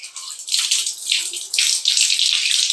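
Water gushes steadily from a just-opened shower tap, a loud, close, continuous hissing splash that swells after a brief quieter start.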